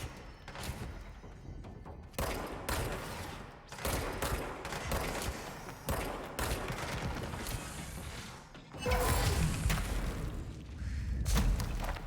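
Bursts of gunfire and heavy impacts from the video game Control come in uneven volleys over several seconds. A louder, denser stretch of shooting follows near the end.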